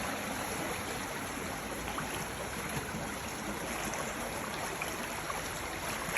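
A small nameless neighborhood creek in Missouri rushes over big rocks and rough rapids, a steady, close, broadband wash of flowing water with no pauses and no voices.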